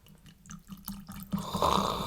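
Chicken Cock Whiskey poured lightly over ice in a glass, a close liquid trickle that swells steadily over about two seconds with no talking.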